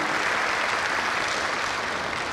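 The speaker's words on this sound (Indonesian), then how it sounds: "Kita tepuk tangan dulu teman-teman Undana." Dense, continuous clapping from a university crowd at a campus event with a public works minister, even and loud from start to end.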